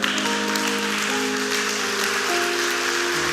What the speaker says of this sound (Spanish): Si vas a aplaudirle, apláudele fuerte a Él.